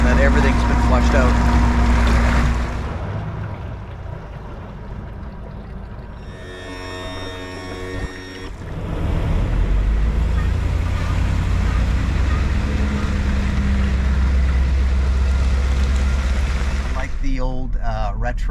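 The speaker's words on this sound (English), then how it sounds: "rev the engine more up and get some more RPMs going" A boat engine being flushed with water on a trailer runs loud and steady, drops to a quieter idle midway, then rises again in a sustained rev, with splashing water and no clear talk.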